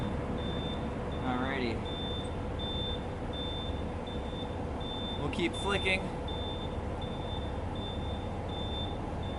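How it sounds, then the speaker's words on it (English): A 20-minute timer alarm gives regular short, high electronic beeps repeating steadily in the background while a person talks. "Oh, that's the alarm for 20 minutes."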